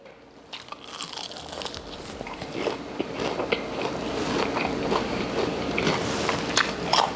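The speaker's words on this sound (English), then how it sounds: "I know you hear the crispy crunch." Crispy fried lemon pepper chicken wings being bitten and chewed up close, with a run of loud, sharp crunches and crackly chewing noises repeating over several seconds, no talking.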